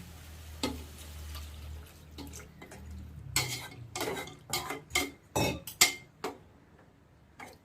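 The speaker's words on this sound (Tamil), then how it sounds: "தேவையான தண்ணி ஊற்றிப்போம். காய் வேகணும்ல." Water poured into a cooking pot of kara kuzhambu with vegetables to cook, with a run of close splashing bursts and metal utensil clatter against the pot, no voices.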